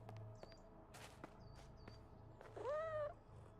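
A cartoon cat in PowerWash Simulator 2 lets out a single clear, rising-and-falling meow near the end, over quiet game ambience and soft footsteps.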